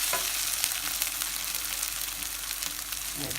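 Ginger garlic paste and turmeric powder fry in hot oil for a mutton liver masala, giving a steady close sizzle with no talking.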